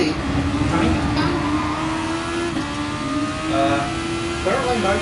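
A Super Formula open-wheel race car engine at Suzuka in GT Sport, holding a steady high whine with small pitch shifts, under someone talking.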